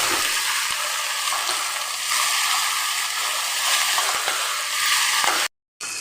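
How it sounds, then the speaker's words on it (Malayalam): Vegetables sizzling and being stirred in a pan while cooking for appam, a loud continuous frying hiss with occasional utensil taps, close up, with a brief silent gap near the end. "ഇനി ഇത് നല്ല പോലെ നമുക്കൊന്ന് മിക്സ് ചെയ്ത് കൊടുക്കാം"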